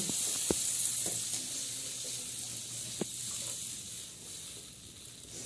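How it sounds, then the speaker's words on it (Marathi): Water poured into a hot pan while cooking Udupi-style upma over a village wood fire, giving a steady soft sizzle and hiss with a few sharp clicks and knocks, no talk. "तर या ठिकाणी पाणी त्यात टाकले जात आहे."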